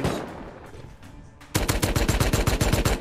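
A rapid burst of gunfire in the video game Rust, about a dozen sharp shots in quick succession, following a brief stretch of quieter game ambience.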